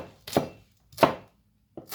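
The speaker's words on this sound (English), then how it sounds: "I like cutting my onions into strips" A knife slices onions into strips on a cutting board, giving three crisp, close chops spaced evenly apart, each with a short thud and a fading scrape.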